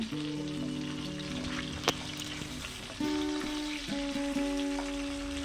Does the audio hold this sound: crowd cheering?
no